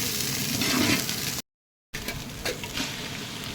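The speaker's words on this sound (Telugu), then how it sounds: "రొయ్యలు వేసాడు" Prawns hiss and sizzle in hot oil as they go into the pan for a biryani. The loud close frying breaks off in a short silent gap and then resumes with stirring clatter.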